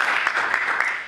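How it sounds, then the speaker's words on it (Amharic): A church congregation at a Sunday worship service claps together in a thick, even wash of applause that tapers off at the end. "እስኪ ጭብጨባ"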